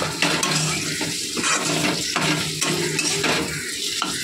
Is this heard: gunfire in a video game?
no